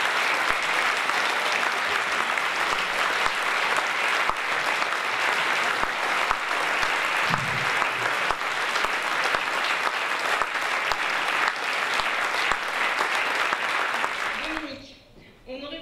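An audience applauds after a medal presentation at a retirement send-off, with sustained loud clapping that holds steady and then drops away near the end, joined briefly by a voice.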